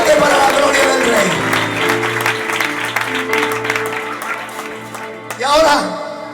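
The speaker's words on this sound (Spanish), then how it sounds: "Fuertes aplausos para la gloria del Señor" A church congregation at an anniversary service claps loudly, then the applause fades under a sustained organ or keyboard chord, and a brief burst of cheering and clapping returns near the end.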